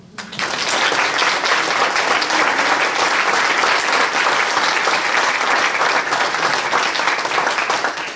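Sustained, loud audience applause fills a French political campaign meeting of the Union populaire after a speech on jobs, public services and inequality, a dense steady clapping that holds evenly throughout.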